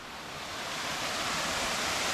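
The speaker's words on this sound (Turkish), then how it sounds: "şelaleye ulaştım" Waterfall on Koh Phangan island, Thailand, producing a steady, full broadband roar of falling water that swells slightly louder over two seconds, close and continuous with no voices.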